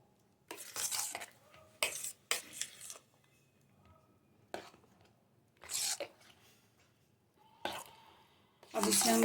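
Finely chopped apple is stirred into creamy fruit custard in a bowl, with quiet intermittent scraping and soft clinking of a spoon, broken by pauses.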